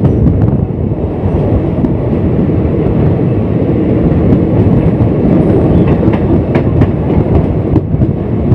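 A passenger train running on rails past Hijli station, heard from inside as a loud, close, steady low rumble with faint rhythmic clatter and wind buffeting, no talk.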